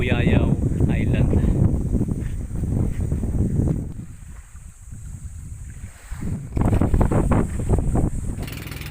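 A small bangka boat rides out around Buyayaw Island off San Roque, Bulalakaw, Oriental Mindoro, in rough waves, with steady engine and wind rumble throughout and voices talking over it.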